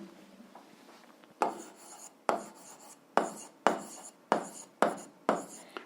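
Writing by hand on paper during an algebra lesson, close scratchy strokes arriving in short regular bursts, about eight in a row after a quiet start.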